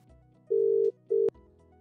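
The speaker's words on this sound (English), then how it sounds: "we're going to call into the Plum Voice phone number, transfer to support" A telephone line rings twice while calling a support phone number, two steady electronic tones with a short gap between them, heard clearly and alone.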